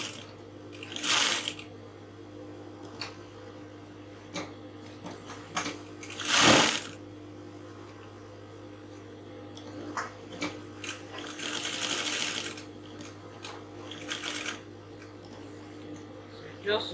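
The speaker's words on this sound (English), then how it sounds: "Now I'm sewing by 1/2 inch." A sewing machine stitches corset pieces at a half-inch seam, its fast mechanical whir coming in several short bursts between quiet pauses, with a steady low hum underneath.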